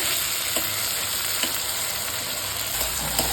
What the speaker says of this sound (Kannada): ಇದು ಸ್ವಲ್ಪ ಚೆನ್ನಾಗಿ ಫ್ರೈ ಆಗಬೇಕು ಟೊಮೆಟೊ ಕೂಡ